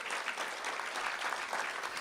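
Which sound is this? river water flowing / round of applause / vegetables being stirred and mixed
round of applause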